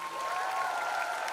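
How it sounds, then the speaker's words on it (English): An audience applauds in a short, steady burst at moderate distance, with no voices over it. "Huge round of applause for Karan Johar."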